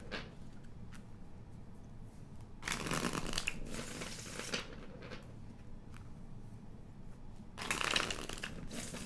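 Tarot cards shuffled by hand in two distinct riffling bursts of crisp papery flutter, with soft handling taps and sliding between them in a quiet room.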